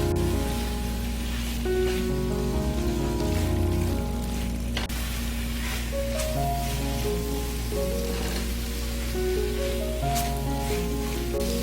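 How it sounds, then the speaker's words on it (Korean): Kimchi with garlic, gochujang, chili flakes, sugar and syrup stir-frying in a pan over medium-low heat, a constant rain-like sizzle running throughout beneath tuneful background music. "이렇게 모두 넣고 중약불에서 약 8분에서 10분 정도 충분하게 볶아주세요."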